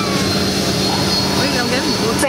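A jet engine roars steadily inside an airliner cabin, a loud, even drone that fills the space, with voices faintly mixed underneath.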